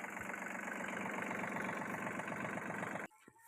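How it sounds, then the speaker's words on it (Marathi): Steady, close tractor engine chugging on a farm with a regular pulsing beat, loud and constant for about three seconds before cutting off abruptly. "इथं मी मस्त ट्रॅक्टर चालवते आहे"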